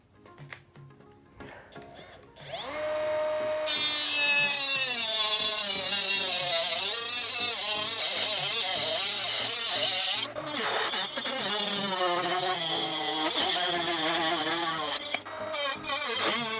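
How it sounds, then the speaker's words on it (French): A Ryobi RCT18C mini grinder cuts a strip of steel 50 mm long by 5 mm wide, spinning up after a quiet start into a loud, sustained whine that wavers in pitch as the disc bites through the metal. "premier test, on va commencer à découper un morceau d'acier"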